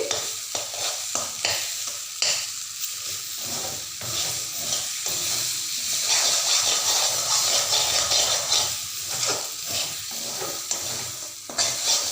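Taro with a little turmeric is stirred continuously in a hot pan, giving a steady sizzle and hiss broken by frequent scraping strokes of the spoon against the pan, close and loud with no talking.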